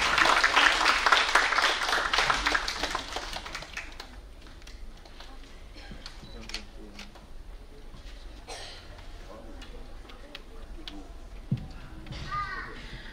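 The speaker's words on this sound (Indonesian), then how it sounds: "Kepada Kak Reski, boleh dipersilahkan naik ke panggung. Tepuk tangannya, teman-teman." An audience applauds as a speaker is invited onto the stage at an evening talk event, with loud, dense clapping for about four seconds before it fades into a murmuring room with scattered voices and small bumps.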